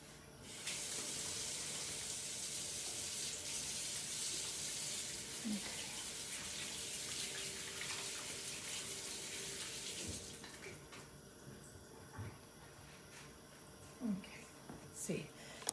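Water from a kitchen sink tap runs onto a frozen sealed bag, a steady hiss that cuts off partway through, followed by quiet handling clatter and soft voices.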